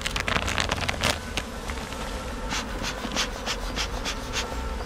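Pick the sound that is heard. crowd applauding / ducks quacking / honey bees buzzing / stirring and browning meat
honey bees buzzing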